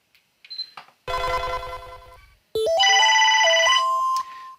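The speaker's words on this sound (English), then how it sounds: "note that you can define specific notification tones on your phone" A push notification alert tone from the OmniGo app on a phone sounds as a bright electronic melody of rising stepped tones, loud and close, following an earlier shorter chime burst, with no talking.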